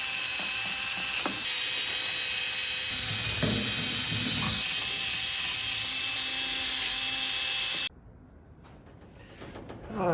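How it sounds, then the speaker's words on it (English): A high, continuous whirring grind of a drill-driven wire brush scrubbing a metal manifold on a 1934 Chevy truck with a 327 small-block runs steadily, then cuts off abruptly, leaving quiet room noise. "use a brush on a drill and just clean this up again so it'll be nice and clean"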